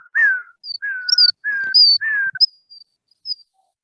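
Students whistle during an online maths lesson, a series of short, loud, shrill whistled notes in a choppy rising and falling pattern, with silence between bursts and no talking.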